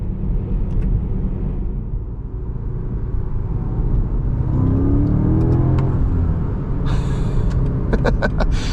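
A 2025 BMW M5 sedan accelerates onto a highway, a deep continuous engine rumble heard from inside the cabin, rising in pitch through the gears, with a few short clicks and knocks toward the end.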